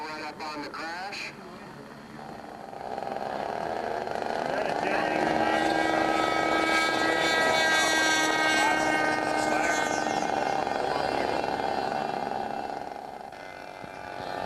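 A radio-controlled Newport 17 model airplane built from a Proctor kit struggles to take off, its small engine droning and whining steadily and fairly loud for most of the stretch, rising and fading at the ends, with a voice speaking over it.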